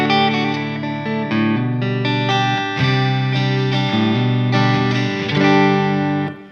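An electric guitar runs through a New Neighbor Immerse reverb pedal set to a medium-low mix, playing sustained chords and held notes with a gentle, lingering ambient tail, loud and up close with no talking.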